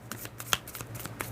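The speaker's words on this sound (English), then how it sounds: "because I love my cards, like I mentioned yesterday, I shuffle them my own little delicate way here" Oracle cards shuffled by hand with a light, delicate touch: a quick run of soft papery riffles and flicks, one crisper snap midway, close and fairly quiet with no talking.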